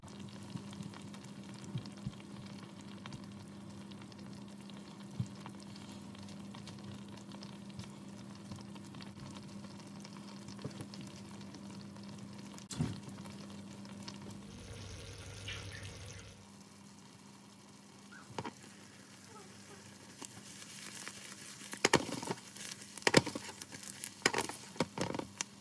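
Shallots confit in a hot pan for a savory tarte tatin, giving a steady, quiet low sizzle that briefly changes midway, followed by faint clinks and stirring sounds near the end.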